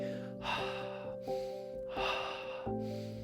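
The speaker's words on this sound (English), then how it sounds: "Breathe with me." Slow, deep breaths drawn in and let out during a flowing breathing exercise, two long rushing breath sounds with pauses, heard over a steady background of soft sustained music tones.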